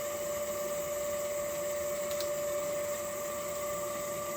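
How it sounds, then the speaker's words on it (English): Wood lathe spinning at about 3,000 rpm while a bespoke fountain pen is sanded and polished, a steady whine with a constant tone over a broad motor hum, continuous and unchanging. "Now I've turned the lathe up a bit"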